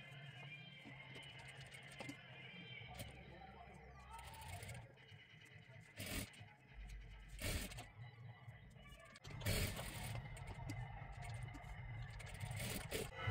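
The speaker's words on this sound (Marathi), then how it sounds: "सर्वात आधी आपण इथे एक शिलाई मारून तयार करून घेऊया" A sewing machine stitching a princess-style blouse collar, giving a steady close mechanical whir with several louder bursts of running stitches and some scraping of fabric.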